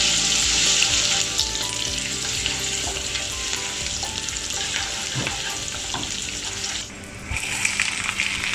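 Garlic and green chilies fry in a pan with a bright, steady, close-up sizzle and occasional stirring taps, easing briefly before the hiss returns.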